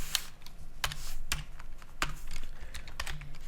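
Quick, uneven keystrokes on a computer keyboard, a dozen or so sharp clicks at close range over a steady low hum, with no voices.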